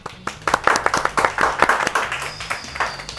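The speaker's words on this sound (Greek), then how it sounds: "Ένα χειροκρότημα." Clapping in a small room before a FIFA 22 gameplay session, a few people's hands giving a quick, uneven series of close, sharp claps that quicken and then taper off.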